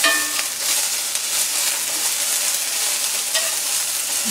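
Liver and onions fry in olive oil with lemon juice, a steady bright sizzle and crackle running for several seconds with occasional pops and stirring scrapes, close and loud with no talking.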